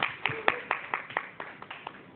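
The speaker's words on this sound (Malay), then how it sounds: "berikan tepukan sekali lagi." Audience at a Malaysian book talk giving a short round of applause: about a dozen distinct, fairly sparse claps in a quick, uneven rhythm, close and moderately loud, fading out within a couple of seconds.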